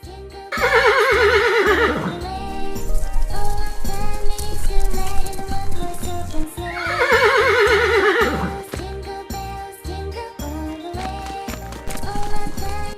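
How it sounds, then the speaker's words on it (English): A horse gives two loud, long whinnies over a steady bouncy music beat in a children's cartoon, with clip-clopping hooves in between. "horse,"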